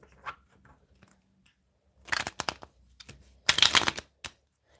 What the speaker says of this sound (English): let's have a bit more of a shuffle for Aquarius